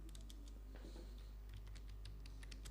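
Rapid clicking keystrokes on a computer keyboard as a command is typed, a quick irregular patter of light taps close up over a steady low hum, with no voices.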